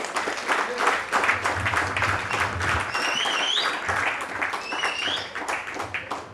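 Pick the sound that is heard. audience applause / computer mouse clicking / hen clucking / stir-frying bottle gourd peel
audience applause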